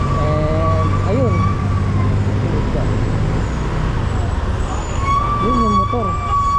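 An ambulance siren wails, rising and falling, fading out midway and returning, over loud traffic noise and a rumbling engine nearby.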